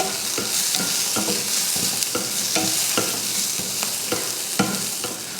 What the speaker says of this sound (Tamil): ஒரு 10லேருந்து 15 போல் சின்ன வெங்காயம், அதையும் வதக்கிடலாம்